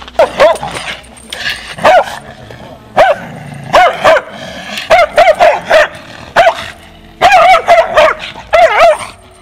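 A very aggressive, traumatized crossbreed dog barks repeatedly and forcefully at close range, in short bursts and rapid clusters with brief pauses and some higher yips.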